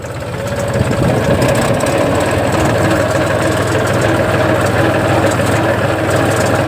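A tractor engine runs steadily and loudly while heading to a thresher during harvest season, a continuous low diesel rumble with vibration throughout and no voices.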